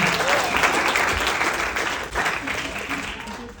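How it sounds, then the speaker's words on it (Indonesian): A stand-up comedy roast crowd breaks into sustained applause, loud and dense clapping that eases slightly toward the end, with some voices under it. "Boleh minta tepuk tangannya buat kita semua."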